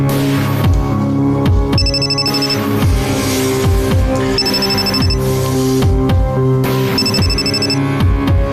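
A mobile phone ringtone plays loud and close in a repeating electronic melody, three bright bursts separated by short gaps, in an Urdu TV drama scene with no voices over it.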